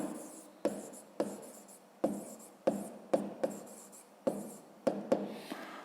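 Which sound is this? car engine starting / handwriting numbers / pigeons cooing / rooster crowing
handwriting numbers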